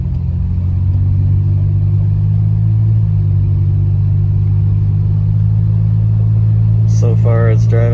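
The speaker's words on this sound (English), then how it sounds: "The first drive of the Jeep." A Jeep with a swapped 3.9L engine drives on its first run, its engine a loud, steady low rumble that dips slightly midway, with a person talking near the end.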